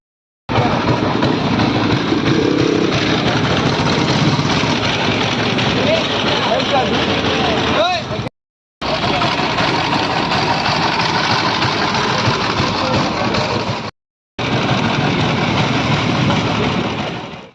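A BMW 1000cc motorcycle idles at a vintage car show in Mumbai, its steady, loud, close engine rumble interrupted by two brief cut-outs.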